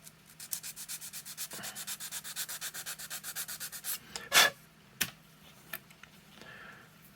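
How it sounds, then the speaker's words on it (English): Rhythmic back-and-forth sanding rubs on a small model part, about twenty quick even strokes, followed by a few sharp clicks and bumps as the piece is handled. "Let me sand this off a little bit"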